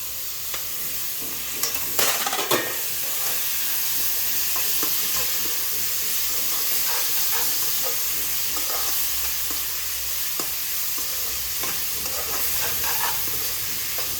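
Onion, tomato and curry leaves fry with cumin powder, salt and chili powder in a pan for a greens and mung bean palya, a steady close sizzle broken by scattered spatula scrapes; no voices.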